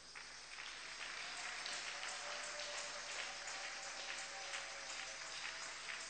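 A church congregation applauds in a steady, dense wash of clapping that fills the room at an even level from start to finish, sounding somewhat distant, with no clear talking.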